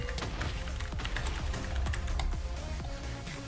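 Fast, steady clatter of keys on a computer keyboard, close and continuous, with dense irregular taps under a faint background hum.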